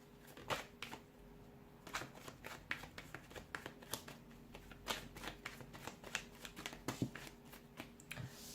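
Tarot cards are shuffled by hand in a steady run of crisp, quick riffling strokes, close and fairly quiet, with no voices.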